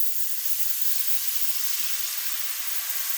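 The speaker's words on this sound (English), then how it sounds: "Now we're going to go ahead and add our beef broth, and I am just going to simmer this down." Beef broth poured over browned flour simmers and sizzles in a pan, a steady, loud, bright hiss that holds evenly throughout with no talking.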